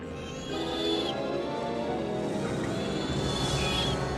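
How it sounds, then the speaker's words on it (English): High squealing cries ring out over a busy rustling background as an owl swoops down near a sleeping kitten in a live-action animal film scene, the thin whistling squeals recurring a few times. "Milo is suddenly woken up by some squealing noises as an enemy owl swoops down nearby"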